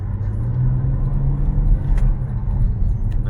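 A car's engine rumbles steadily while driving home after a repair, a deep, continuous low drone heard close from inside the cabin, with no talking.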